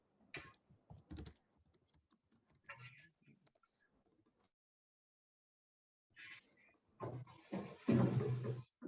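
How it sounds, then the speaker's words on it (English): Code is typed on a computer keyboard in quick, close bursts of clicking keystrokes separated by pauses, ending in a dense, louder flurry of keys. "it's probably faster if I just type it out"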